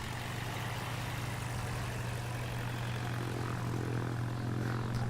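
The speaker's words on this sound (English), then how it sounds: "you come to another section up the top here, which is a loud prop plane, and you can play it to hear it" A loud propeller plane drones steadily throughout, with a strong low engine hum and propeller buzz that holds at an even level with no speech.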